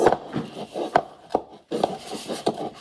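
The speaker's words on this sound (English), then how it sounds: "I am kneading, so I'm taking my hand and I'm going around the edge of the bowl." Dough being kneaded by hand in a bowl for lemon crinkle cookies, pushed around the bowl's edge and forward in a steady series of soft thumping, rubbing presses, close and clear with no talk.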